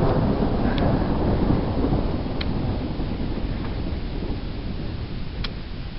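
Deep, loud thunder rumbles on and on during a lightning storm without rain in the Lehigh Valley, a broad roar that slowly fades, with a few faint crackles on top.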